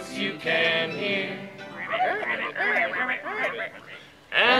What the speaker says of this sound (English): And the frogs you can hear.